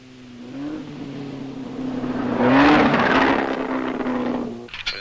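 A junior single-seater race car, Lotus or Cooper, at a 1960s racing school, its engine droning steadily then revving up to a loud peak mid-clip before easing back to a sustained run and cutting off near the end.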